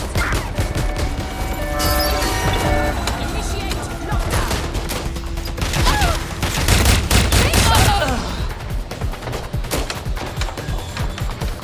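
Gunfire rings out in Watch Dogs Legion, with bursts of rapid shots and crashing impacts layered over tense game audio and radio chatter-style voices.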